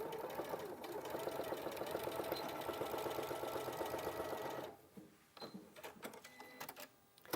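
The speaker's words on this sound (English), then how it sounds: "I'm just going to sew it a couple of times." A sewing machine stitches a tab in place, running steadily and loud for several seconds, then stopping, followed by a few short bursts and light handling clicks.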